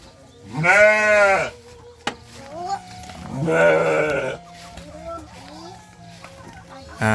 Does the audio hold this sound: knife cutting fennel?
no